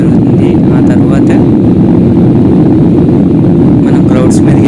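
Loud, steady roar of an airliner's engines during takeoff, heard from inside the passenger cabin on a first flight, a constant rumbling drone with no pauses.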